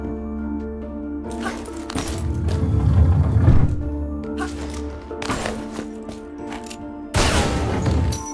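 Gunshots in Tomb Raider: Anniversary crack out in separate bursts, a few sharp loud reports spaced seconds apart, with clinking and echoing game ambience between them.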